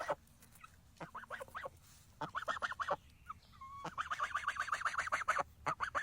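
A young goose gives cracking, squeaky honks in choppy bursts, moderately near, with a faint outdoor background and no voices.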